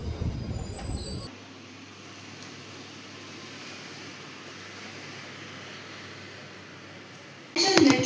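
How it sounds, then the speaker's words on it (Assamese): Steady low rumble and whoosh inside a moving Chennai metro train carriage, with brief louder bursts at the start and end. "এতিয়া মেট্ৰ'ত গৈ আছোঁ আমি একেলগে"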